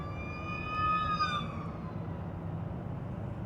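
An emergency crash truck's wailing siren sweeps past on a road, its rising and falling tone strong at first and then fading away as it recedes, over steady traffic rumble.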